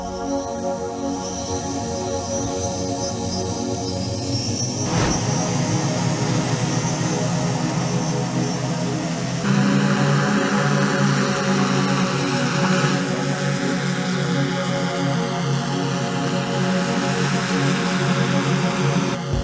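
Hybrid VTOL cargo drone with a 3.5-meter wingspan flying, giving a steady, loud engine and propeller drone with strong tonal hum that swells slightly partway through, continuous and without talk.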